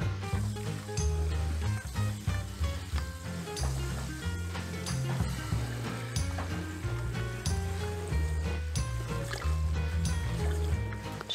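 Sugar poured into water while making a sugar mash for home brewing hisses and fizzes steadily up close, a continuous sizzling trickle under faint background sounds.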